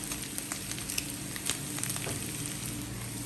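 Crushed ginger and garlic frying in oil with chillies added give a steady, close sizzle, scattered with small crackles and pops, in the early stage of a squid thoran. No voices are heard.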